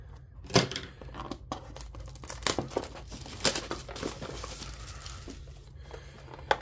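Cardboard and foil packaging of a box blaster of trading cards being torn open, with crinkling, ripping bursts and scattered crackles at close range, fairly quiet overall.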